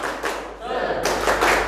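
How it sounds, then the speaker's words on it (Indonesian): A group claps a short spirit-clap routine at an orphanage youth organisation gathering, the claps coming as a few bursts of sharp, close slaps with voices mixed in. "Tepuknya 2 kali berarti semangat"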